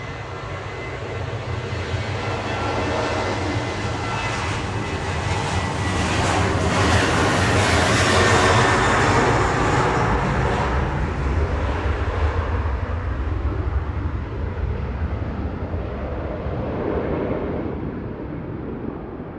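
Airliner taking off at Manchester Airport, a loud, steady jet engine roar that swells broadly around the middle and then slowly eases, alone with no talk.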